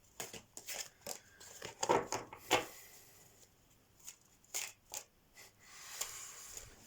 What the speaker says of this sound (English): I'm just gonna keep shuffling until I find something good